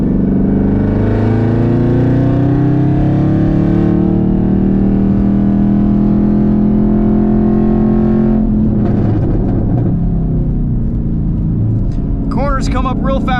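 A 2022 Chevrolet Camaro ZL1 with a manual gearbox accelerating on a race track, heard from inside the cabin as a loud rising engine drone, a gear change near the end and voices talking over it.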